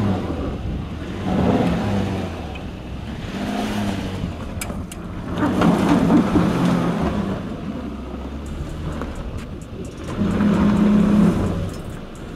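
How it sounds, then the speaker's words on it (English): A Mercedes GLS 450 SUV climbs an off-road hill with its wheels slipping, the engine surging and easing in repeated revving waves over a continuous rough rumble, fairly close. "the Mercedes continues driving uphill, slipping even more than it was during the previous drive."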